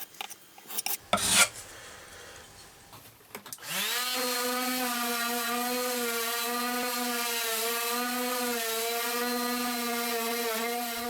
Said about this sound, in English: put it to one side whilst it dried and set about sanding everything else